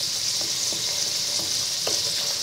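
Tuna chunks frying in a pan with butter, a steady close sizzle with soft scraping stir taps now and then, no voices.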